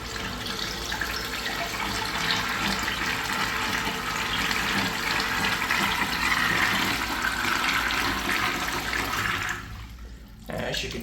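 Kilgore / Mansfield Adam urinal from the 1980s-1990s doing a bowl rinse flush: a steady, loud rush of water running continuously for about nine seconds, then cutting off abruptly near the end.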